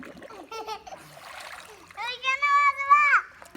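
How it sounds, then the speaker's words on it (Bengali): Water splashes softly as a child dunks in a pond, a brief watery swish heard between the high, sing-song voices of children talking close by. "ডুব দিব আমি ডুব দিই"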